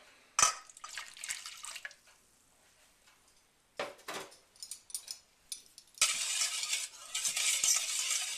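Milk poured into proofing yeast for crumpet batter, heard as close splashing and dribbling bursts separated by quiet gaps, ending in a longer steady pour, with no talk.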